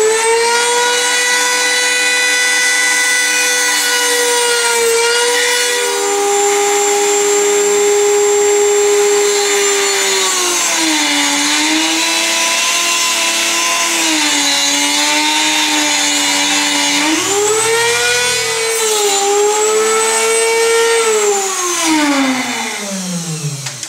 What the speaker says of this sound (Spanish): Voy a prender la Dremel.